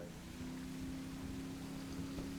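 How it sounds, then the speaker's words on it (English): Batboat engines from a GTA 5 mod idle and then cruise, giving a steady low motorboat drone with a humming tone. It stays loud and constant over faint water noise, with no talking. "Now we will engage engines and start cruising around"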